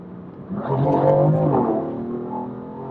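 A BMW M4 accelerates hard, its engine note swelling and climbing in pitch over about a second, then holding a loud, steady roar close by with no talking.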